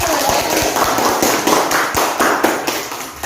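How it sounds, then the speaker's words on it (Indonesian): A school class clapping for a pupil, dense lively hand claps with some sharper individual slaps, close and loud throughout. "tepuk tangan buat Dania"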